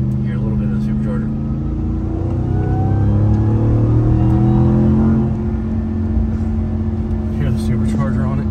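A 2023 Ram TRX's supercharger whines as the truck cruises in automatic drive, a steady engine drone and tonal hum heard from inside the cabin, rising slightly midway, with people talking over it.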